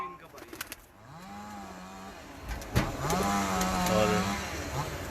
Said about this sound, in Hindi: गोल्डन और टैडी क्रॉस में हैं ये। बहुत अच्छे कबूतर हैं ये